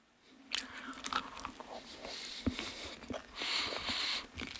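Close, crunchy chewing of the last bite of a large Migros Mi-Go mixed pizza, with irregular bites and soft squishy mastication sounds continuing for several seconds, no talking.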